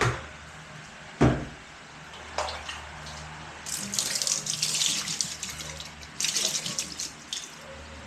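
Water runs from a stored water supply, a splashing stream that starts and stops in bursts, with a sharp knock and some clattering of containers between the pours.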